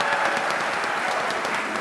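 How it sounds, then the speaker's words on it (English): A school concert audience claps and cheers for a cadet orchestra at a Memorial Orchestra Concert. The dense, steady applause fills the room evenly with no single voice standing out. "can we have a quick cheer and a round of applause for our cadet orchestra?"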